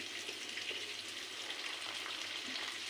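Potatoes fry in a pan with a soft, constant sizzle, close and unbroken, with no talking.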